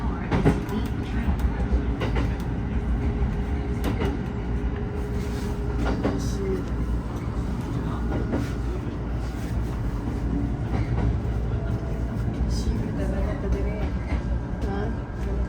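A local train in the Nagano countryside rolls along its rails with a constant loud rumble, occasional clickety-clack joints, and a steady interior hum, while people talk and an announcement plays over it.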